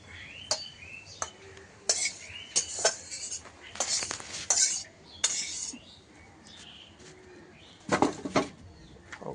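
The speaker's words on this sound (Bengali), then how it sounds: "এবার ভাত বাড়ার পালা" Scattered clinks and clatters of dishes and cutlery, some sharp and close, with gaps between them and a brief cluster near the end, heard indoors while rice is being served.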